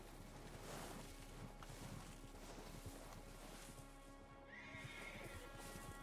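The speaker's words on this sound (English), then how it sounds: "Okay, I can hear a horse." In the Red Dead video game world (RedM), a horse whinnies loudly while hooves clip-clop steadily nearby, with faint wind noise and no talking.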